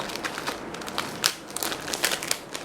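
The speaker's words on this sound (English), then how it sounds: "just pour them in the blender like this" Oreo biscuits clatter and crinkle into a blender up close, a rapid irregular scatter of light crunchy taps over a few seconds.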